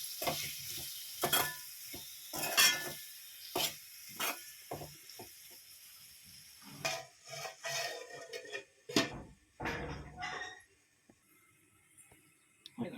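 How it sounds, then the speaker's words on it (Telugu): Tomatoes cook down in an egg curry in a covered pan. Quiet sizzling runs under a series of scraping stirs and clinks of a spoon against the pan, with irregular pauses between the strokes. "ఇదంతా కలుపుకొని మూతేసి టమాటా ఉడికేంత వరకు మంచిగా మగ్గనిద్దాం"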